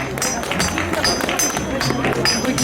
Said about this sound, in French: Allez, on les encourage et on les applaudit un petit peu